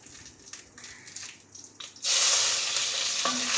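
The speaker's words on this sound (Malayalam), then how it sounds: "അതൊന്ന് നന്നായിട്ട് ചൂടാവുമ്പോൾ കടകിട്ട് ഇടുന്നുണ്ട് വറ്റൽമുളക് ഇട്ട് കൊടുത്തു കറിവേപ്പിലയും കൂടെ ഇട്ട് കൊടുക്കാം" Mustard seeds, dried chillies and curry leaves hitting hot coconut oil, with a sudden loud, steady hiss and crackle that takes over midway after quieter kitchen rustling.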